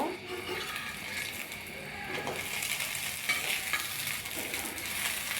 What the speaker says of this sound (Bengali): চুলার ফ্লেমটা লোতে রেখে আমি বেগুনগুলোকে ভালো করে ভেজে নেব